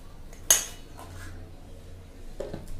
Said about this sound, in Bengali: এটাকে লবণটা দিয়ে আমি এই চালের গুঁড়া আর ময়দাটাকে আমি একটু ভালো মতো মিশিয়ে নিচ্ছি